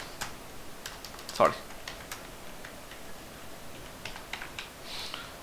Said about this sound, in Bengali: গুগলে গিয়ে লিখবো ফিচার অফ ফ্লাটার